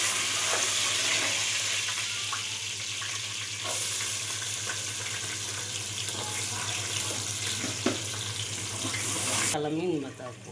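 Tamarind being dissolved in water by hand in a home kitchen: a steady wet sloshing and squishing close by for about ten seconds, with a constant low hum in the background.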